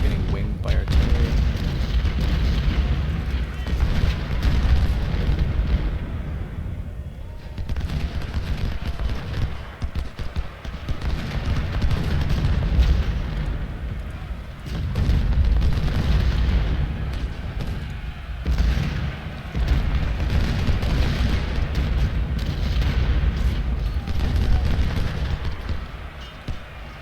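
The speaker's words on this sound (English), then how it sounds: "Pull back slightly because we're getting winged by artillery." Artillery fire in a Civil War battle video game: a continuous low rumble of distant cannon blasts and battle noise under someone speaking throughout.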